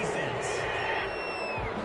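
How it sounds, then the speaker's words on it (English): A home stadium crowd in an American football video game roars steadily in approval after a penalty call, with voices talking over the crowd noise. "This home crowd, they're happy with that call"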